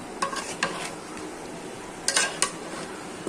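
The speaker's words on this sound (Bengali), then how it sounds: "এখন এগুলো কষিয়ে নেব।" Chicken being stirred in a pot with turmeric, chilli powder, coriander-cumin powder, garam masala, bay leaves and green chillies: a soft steady sizzle with a few sharp utensil scrapes and clinks against the pot, close by, no talking.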